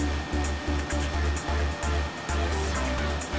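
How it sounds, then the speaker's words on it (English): Hair dryer blows steadily and close, used while styling hair into an S-shaped curtain fringe, a continuous airy whoosh with slight pulsing as the airflow shifts. "Dry with the hair dryer from the front to the back."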